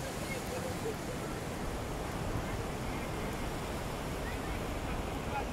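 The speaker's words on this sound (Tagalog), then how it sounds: "Ang taas ng alon" High ocean waves with a strong current surge on a beach in Tenerife, Spain, a steady, loud roar of surf and wind rumble filling the whole stretch.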